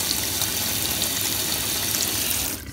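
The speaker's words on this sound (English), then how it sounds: "I'm just running some water, make sure it's nice and hot" Hot water runs from a tap into a sink as a steady, close hissing splash that stops abruptly near the end.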